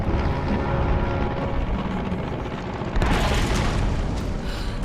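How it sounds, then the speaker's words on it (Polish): An airplane roars toward Lara Croft in the Tomb Raider video game, a loud, dense, unbroken rumble that swells slightly partway through and fills the whole moment. "Kurwa, Lara, ten samolot do ciebie leci."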